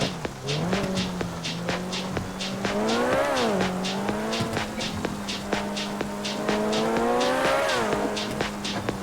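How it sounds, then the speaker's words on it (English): Race car engine holding a steady drone with rising and falling pitch as tires squeal and slip during fast cornering, loud and continuous with no talking. "can feel the tires start to slip"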